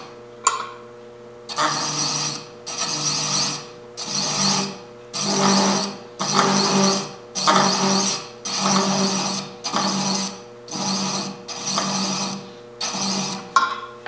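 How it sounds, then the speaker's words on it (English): A wood lathe turns a threaded wooden box at reduced speed, a steady motor hum running beneath a regular series of rasping strokes, about one per second, each rising and fading. "I'm going to reduce my lathe speed since I have my threads pretty much established."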